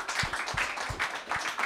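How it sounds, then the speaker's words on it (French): A small audience claps after a talk on dairy farm work organisation, a brief patter of hands with a few distinct louder claps close by. "On peut l'applaudir."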